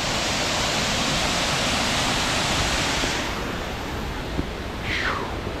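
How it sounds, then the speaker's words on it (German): The Todtnau waterfalls in the Black Forest thunder down into the valley as a dense, loud, continuous roar of rushing water that eases slightly partway through. No voices are heard. "tollen Blick auf die Tottenauer Wasserfälle, wie sie hier ins Tal runter donnern"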